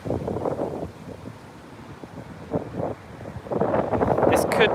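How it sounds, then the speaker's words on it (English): Strong wind buffets the microphone at Heathrow airport, a steady rumbling roar that swells louder near the end, with a person talking intermittently over it. "I'm really having to fight against this wind to even just stand up at the moment"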